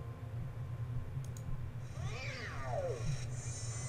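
A robotic cat in a Nancy Drew mystery game lets out one drawn-out, wavering meow midway through, heard over a steady low hum with a couple of faint clicks beforehand.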